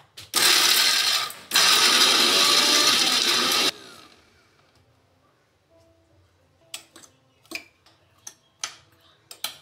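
A kitchen mixer grinds peanuts, roasted gram, ginger and green chili into chutney, two loud whirring runs with a brief pause between, followed by quiet clicks and knocks of the jar.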